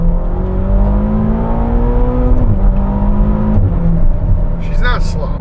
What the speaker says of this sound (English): Let's do a quick second gear pull.